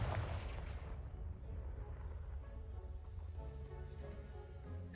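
A fiery Confringo spell explosion in the Hogwarts Legacy video game, a sharp blast at the start that rumbles and crackles away into a low, fading roar, heard alone.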